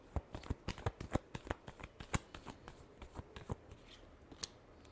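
Tarot cards riffle and snap in a quick, uneven run of crisp close-up shuffling bursts, thinning out toward the end, with no voices.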